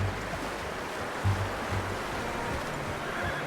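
Horse neighing in Red Dead Redemption 2, a short whinny rising out of a steady wash of outdoor ambience, fairly close and moderately loud, with faint hoof movement around it.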